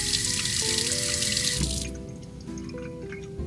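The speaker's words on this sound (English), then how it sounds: "Make sure the pump under the sink started." The water pump under a camper van sink hums with shifting tones while water rushes from the tap, the flow cutting off partway through and leaving the pump's quieter drone.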